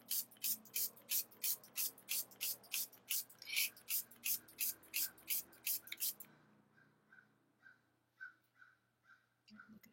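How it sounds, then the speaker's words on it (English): Spray paint hisses onto a card in quick, evenly spaced bursts, about sixteen sharp puffs in a row, then a few fainter, sparser sprays trail off nearby. "so now I'm going to spray on the card"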